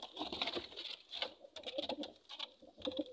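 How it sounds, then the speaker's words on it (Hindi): Golden pigeons coo softly and repeatedly nearby, their low throaty calls overlapping with light rustling and fluttering. "कबूतर है जी"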